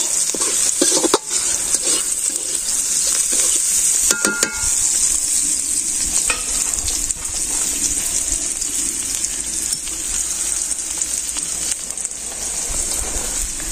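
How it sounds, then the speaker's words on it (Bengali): Onion and chili sizzle steadily in a wok, a loud continuous hiss with scraping stirs throughout, close and alone with no talking. "পেঁয়াজ মরিচ আমি কড়াইতে দিয়েছি"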